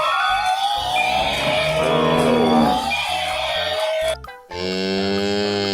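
Cattle or buffalo in a Thai animal toy-show setting give long, loud lowing moos with rich harmonics, sustained through most of the stretch, then a brief break and another strong moo at the end.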